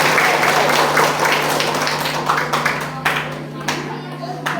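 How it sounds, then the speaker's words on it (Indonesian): Clapping from the audience at a sixth-grade farewell and graduation ceremony at a primary school, a steady patter that continues throughout beneath a persistent low hum and scattered voices. "Tepuk tangan untuk semua yang ada di sini."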